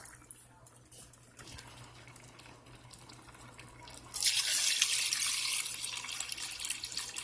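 Water pours into a pot of chicken and yellow rice as a bright, steady splashing stream that starts suddenly partway through and continues, close by, after a stretch of quiet kitchen background.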